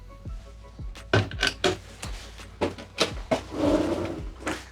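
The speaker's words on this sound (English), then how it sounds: "another cutlery or storage drawer," Large cutlery and storage drawers in the galley of a Jeanneau Merry Fisher 1095 Fly flybridge boat slide and knock shut, giving a series of close, sharp clunks and rattles with a brief scraping slide near the end.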